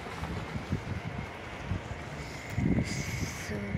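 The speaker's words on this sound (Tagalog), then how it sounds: "Grabe ang hangin, ang lakas." Strong wind buffets the microphone outdoors, a constant roaring rumble with gusty swells, strongest near the end, and no clear voices.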